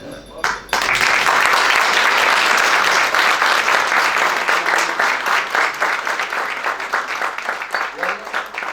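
Audience at an accountants' chamber event in Bayrampaşa, Istanbul, breaking into loud, sustained applause that starts abruptly and holds strong for several seconds before tapering slightly.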